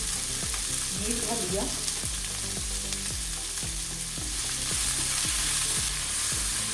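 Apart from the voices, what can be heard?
sautéing an ingredient in a pan until soft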